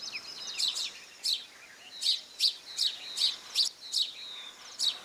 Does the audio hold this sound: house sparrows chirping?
yes